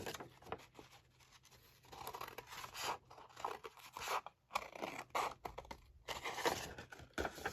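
Scissors snip across paper card for a craft journal pocket, close and fairly quiet, with irregular crunchy cuts and rustles spread over several seconds and no talking.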